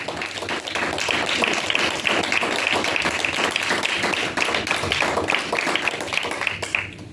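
A church congregation claps together in a sustained, loud burst of applause, dense and even with many hands, tapering slightly at the very end.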